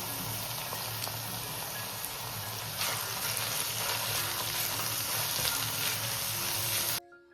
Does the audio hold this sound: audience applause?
no